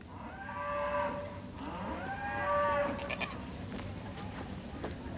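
A cow lowing twice in long, drawn-out moos, fairly close, followed by a few shorter calls and faint higher cries from other farm animals in the background.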